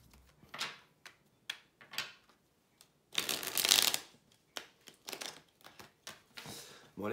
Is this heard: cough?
no